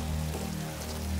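Steady rain falls in the Tomb Raider game world, a dense, even hiss of drops pattering on surfaces with a low rumbling bed, continuous and close with no talk over it.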